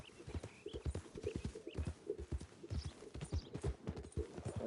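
A horse galloping away in Red Dead Redemption 2, its hoofbeats loud and close in a quick, uneven clip-clop rhythm lasting the whole stretch.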